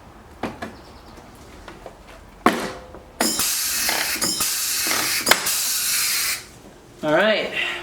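A pneumatic rivet gun on a C8 Corvette's side skirts gives a few sharp clicks, then a long loud hiss of air for about three seconds, with brief talk near the end.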